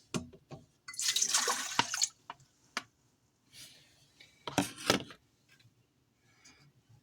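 Warm water splashes and pours into a mixer bowl in short uneven bursts, with scattered clinks and knocks around it, fairly quiet and close.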